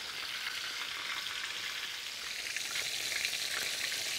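Oysters deep-frying in hot oil on a propane-fired plow disk, a dense steady sizzle and crackle of bubbling oil that swells slightly louder toward the end, close and continuous with no talking.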